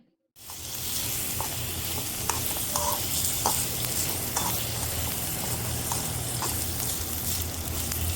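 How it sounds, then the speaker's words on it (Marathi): Vegetables sautéing in oil in a pan for Chinese noodles, a steady sizzle with scattered clicks and stirring scrapes, moderately loud and close after a short silent start, with no talk. "या भाज्या या तेलात परतून घ्यायच्या आता चांगल्या एकदम चांगल्या लाल लाल होऊन द्यायच्या"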